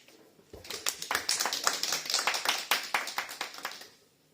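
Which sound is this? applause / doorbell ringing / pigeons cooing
applause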